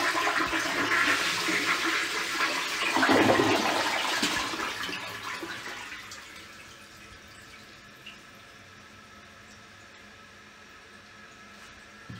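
Toilet tank with a new fill valve refilling after a flush, loud rushing water at first that settles into a quieter, steady trickle and hiss as the tank fills.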